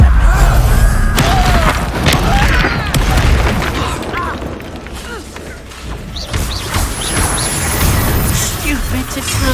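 A Confringo blasting spell explodes in the video game Hogwarts Legacy: a loud booming burst at the start, then continuing crashing combat effects and magical sounds, with voices talking over the action.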